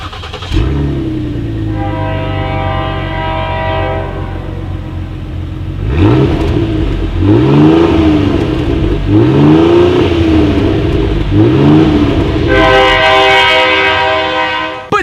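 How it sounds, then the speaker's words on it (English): Exhaust of a 2019 Ford Explorer with dual exhaust, heard close behind the SUV: a steady idle, then several loud revs that rise and fall, then a settle back to idle, with no talking. "As always, here is that exhaust clip."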